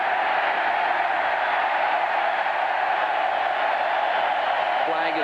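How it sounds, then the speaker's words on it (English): Stadium crowd of about 60,000 fans at Kyle Field in College Station during a 1987 Washington at Texas A&M football game, a constant loud roar that never breaks. "You can hear the crowd getting into it"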